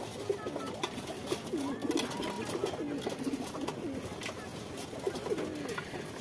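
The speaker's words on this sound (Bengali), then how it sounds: "এটা হচ্ছে একটা রয়্যাল টেরি র ব্রিডের অরিজিনাল একটা রয়্যাল টেরি কবুতর।" A Royal Teddy pigeon, an original pure-bred bird, gives soft repeated low coos close by amid a busy background of other pigeons cooing and rustling.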